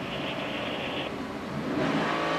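NASCAR Sprint Cup race car at the 2011 STP 400 coasting with the clutch pushed in, a steady loud whirring engine and drivetrain drone with a brief shift in pitch, and no talk over it.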